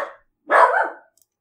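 A dog barks once, loud and close, a single sharp bark set off by fireworks outside, with a faint earlier yelp before it and silence after.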